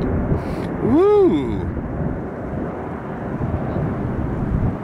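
A Cessna Citation 550 business jet rolls and lifts off a runway at Tampa International Airport, a steady broad engine roar heard from nearby under a brief whistling sweep, with no talk.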